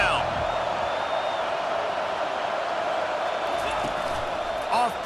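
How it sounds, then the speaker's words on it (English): A stadium crowd roars on third down in the College Football 25 video game as Texas plays Texas A&M, a steady broad wall of cheering with a few faint whoops, loud throughout. "Decibels rising as the crowd gets behind this defense on 3rd down."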